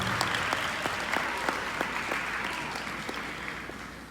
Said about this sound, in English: Let's give him another great round of applause.